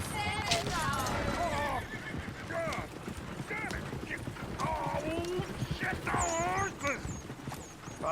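A horse in the video game Red Dead Redemption 2 whinnies several times over the steady clatter of hooves, with people talking underneath throughout.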